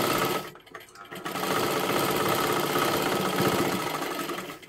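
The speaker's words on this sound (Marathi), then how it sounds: "आता हे पहा इथे आपण शिलाई मारून घेतली।" A sewing machine runs in a fast, steady mechanical whir while stitching a blouse, stopping briefly near the start before resuming a continuous close hum with no talking.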